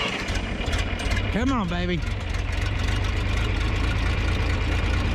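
A 1967 John Deere 4010 tractor running on propane cranks over with a steady, loud, rhythmic churning drone, while someone briefly speaks over it.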